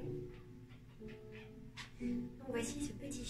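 Small puppy whimpering and whining softly in short, faint bursts, with a person talking alongside.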